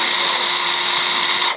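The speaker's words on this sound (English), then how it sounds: "I'm just going to use a 2mm drill bit because that will just give me a pilot to allow me to then put the screws in" Power drill fitted with a 2mm bit boring a pilot hole, a loud steady high-pitched whine that cuts off abruptly at the end.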